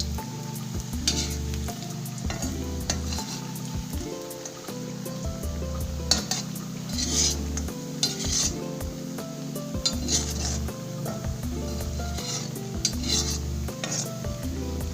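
Food fries and sizzles steadily in hot ghee, a continuous crackling hiss close by, with a spoon stirring and clinking against the pan at intervals and no talking.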